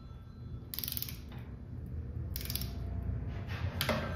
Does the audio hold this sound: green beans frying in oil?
no